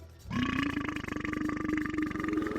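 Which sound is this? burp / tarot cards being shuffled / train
burp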